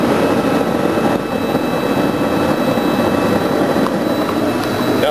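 A gas burner flame roars beneath a converted beer keg, a loud, steady, broadband rush that holds evenly throughout with no voices.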